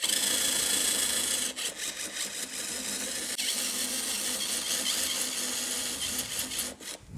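A screw extractor is turned counterclockwise in a damaged screw with a drill, producing a loud, continuous whirring grind with brief dips and no talk.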